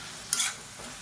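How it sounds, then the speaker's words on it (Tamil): Vegetables with sambar powder are stirred in a hot pan: one short, bright scrape of the spoon over a faint background sizzle, close and brief. "இதையும் சேர்த்து நல்லா வதக்கி விட்டுக்கலாம்."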